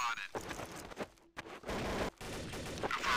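Rapid video game gunfire crackles in dense bursts during an online shooter match, with short gaps between volleys and excited voices talking over the shots.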